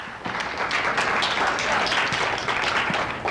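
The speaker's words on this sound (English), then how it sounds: "you clap." An audience claps in a steady, dense patter of hand claps that runs continuously at moderate level, heard from some distance in a room during a ballroom foxtrot dance talk.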